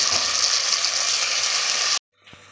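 Chopped tomato and cashew pieces sizzle steadily in an oily pan while cooking chicken pulao, a loud, even frying hiss that cuts off abruptly near the end, followed by a faint thump.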